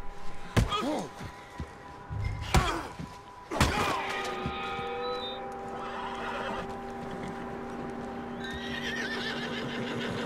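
Horse neighing and whinnying several times with clip-clop hoofbeats and a few thuds in Red Dead Redemption 2, loud and close, followed by a steady game ambience.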